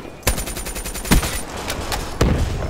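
Rapid automatic gunfire in the video game Black Ops 3, with repeated bursts of closely spaced shots and a few louder cracks standing out from the steady rattle.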